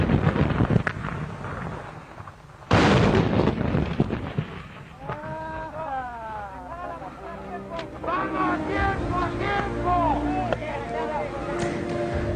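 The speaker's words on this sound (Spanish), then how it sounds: "esta posibilidad de disparar un cañón" A cannon fires a single symbolic shot in a Falklands war remembrance setting: one sudden heavy boom early on, followed by people talking over wind and outdoor rumble.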